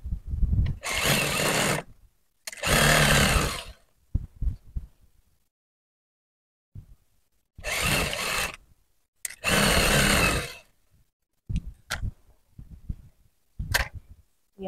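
Sewing machine edging a bedsheet runs in loud bursts of a few seconds each, separated by quiet pauses with small handling clicks and taps.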